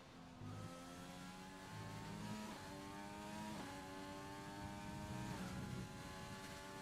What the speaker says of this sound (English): really ringing out this engine, taking it full revs